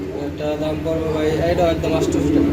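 Pigeons coo nearby in low, soft, repeating calls at a pigeon sale while people talk in the background.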